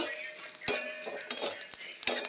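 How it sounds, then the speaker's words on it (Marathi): A metal spoon stirs edible gum (dink) roasting in a pan, making close, intermittent scrapes and clinks against the metal over a soft sizzle. "हे वारंवार मी हलवत आहे बघा"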